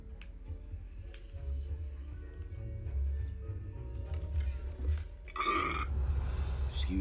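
A burp during play of a Harry Potter-style potions game, a short guttural burst near the end, loud and close, over a low steady background hum with faint game clicks.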